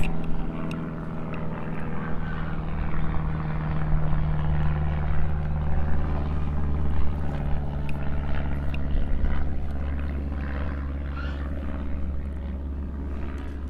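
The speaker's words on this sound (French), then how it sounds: "Il y a un avion qui passe." An airplane passes overhead as a steady low engine drone that swells slightly and then eases off, heard alone without talk.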